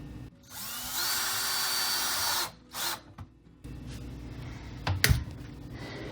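A power drill drives screws into a kitchen cabinet during installation: one sustained loud whirring run, then a short second burst, followed by a sharp clunk and low handling noise.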